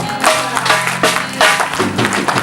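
A church congregation claps in rhythmic bursts during an evangelical worship service, loud and close, with several distinct rounds of applause over a low background.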